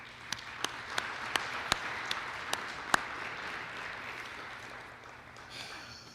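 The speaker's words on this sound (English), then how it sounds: "Let's give Rose a round of applause" At an educators' awards banquet, scattered individual claps ring out from the audience for an honoree, about eight sharp, fairly faint slaps spaced apart over a quiet room hum before fading out.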